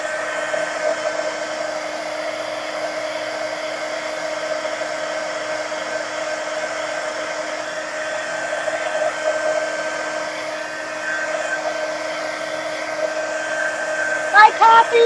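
A handheld dryer blows over an art journal page, producing a steady, loud whirring hum that runs unbroken for the full length, with a few faint knocks at the very end.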